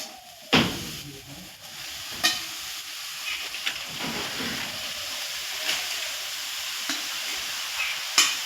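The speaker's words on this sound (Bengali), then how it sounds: "কেটে রাখা শাকগুলো আমি এই কড়াতে দিয়ে দেবো" Steady loud sizzling and hissing of bathua greens frying in a wok, with occasional sharp clatters from stirring.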